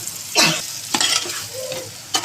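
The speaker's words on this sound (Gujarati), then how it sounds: "હવે કારેલા અંદર નાખવાના છે આપણે" Bitter gourd hits a hot, sizzling tempering for karela shaak and is stirred with a spoon: a few sharp frying hisses and scrapes come in short bursts, close and fairly loud.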